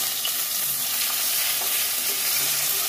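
Pieces of fish fry in a pan with a steady, close crackling sizzle, with small pops and occasional stirring scrapes and no voices.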